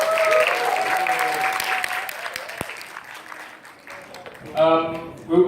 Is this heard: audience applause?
yes